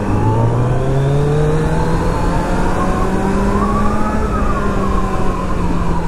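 A Kawasaki Z900 inline four-cylinder superbike being ridden, its engine holding a loud, steady drone that rises slowly in pitch through a long gear, with constant wind and road roar close up and no voices.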